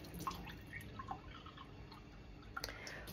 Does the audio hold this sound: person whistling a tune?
no